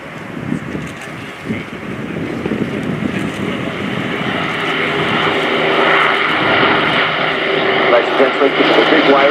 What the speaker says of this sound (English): give us a big wave as the Lancaster Hurricane and Spitfire come past the BDMS Memorial Flight.